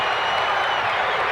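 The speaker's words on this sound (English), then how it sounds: "Crowd's into this ball game." A basketball arena crowd at an NBA game between the Bulls and Cavaliers at the Richfield Coliseum in 1990 applauds and cheers, a dense, steady roar of clapping filling the whole moment.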